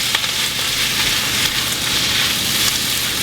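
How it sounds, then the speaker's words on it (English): Sauerkraut sautéing in a pan while making sauerkraut and noodles, a steady close sizzle with faint stirring scrapes, no talking. "it's very important to let these saute together"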